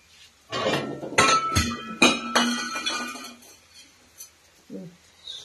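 A lid set over a pan holding a Maggi noodle snack, giving several close, ringing metallic clinks and clatters in a short burst before it fades to near quiet.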